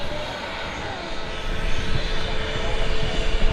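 EasyJet A320neo-family airliner taxiing at Manchester Airport, a steady loud engine roar and rumble with a faint tonal whine, heard outdoors from nearby with some wind noise.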